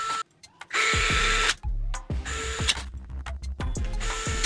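A hand tool drives screws into the back plate of a HoBao Hyper SSTE RC car, giving several short bursts of close ratcheting, whirring mechanical noise separated by sharp clicks and brief pauses.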